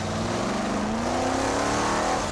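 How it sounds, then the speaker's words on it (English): Modified 1972 Vauxhall Victor drag car built for sub-8-second quarter-mile runs, engine roaring loud and steady with rising pitch as it revs hard up close. "Mechanic Andy Frost modified a humble 1972 Vauxhall Victor to cover the quarter-mile drag racing benchmark in 8 seconds or less"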